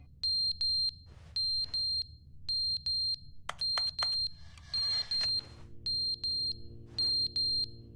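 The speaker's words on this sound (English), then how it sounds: "What is that beeping?" Electronic beeping in The Stanley Parable: sharp, high double beeps repeating in a steady rhythm, loud and clear over a quiet low hum, with a brief clatter of other sounds midway.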